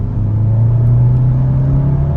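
A Skoda Octavia vRS 245 accelerating hard in normal mode, a loud, steady low engine drone that builds slightly as speed climbs, heard from inside the car without talking.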